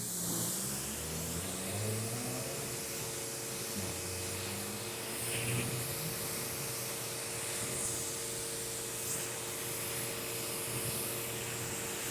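An AVA pressure washer with a wide 60-degree nozzle rinses foam off a car, giving a steady broadband spray hiss over a constant humming pump motor that holds for the whole stretch.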